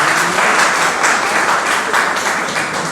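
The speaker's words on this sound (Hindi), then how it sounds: "तालियां" An audience claps together at a Modicare health-products meetup in Kaimganj, a loud, dense and steady burst of applause lasting the whole short stretch.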